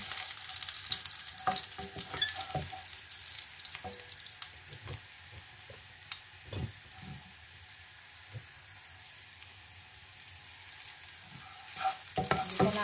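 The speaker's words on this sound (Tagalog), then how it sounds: "Gisa natin yung bawang." Chopped garlic sautéing in oil in a home kitchen for a bihon noodle dish, a continuous hissing sizzle broken by clattering stirring scrapes, with a quieter stretch midway and no talking.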